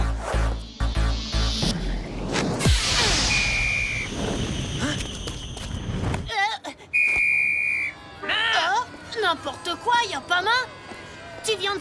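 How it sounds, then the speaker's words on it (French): A referee's whistle blows sharply to halt play in a cartoon street football match, two bright sustained blasts amid loud crowd noise and chatter. "vient de siffler un arrêt de jeu"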